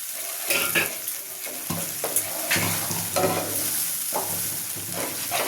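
Spices fry in a pan with a bright sizzle that flares when liquid hits the oil, broken by stirring scrapes and clatters, close and with no voices.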